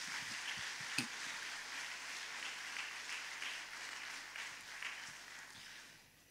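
A church congregation applauding the Lord during a service, sustained soft clapping from many hands at a moderate distance, with a brief louder clap near the start.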